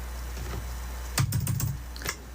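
A short burst of keyboard typing, quick clicks clustered together over a low steady hum, fairly quiet.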